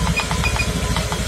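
A car engine idles steadily up close during a diagnostic scanner test, a low rhythmic throb with light mechanical ticking and no voices.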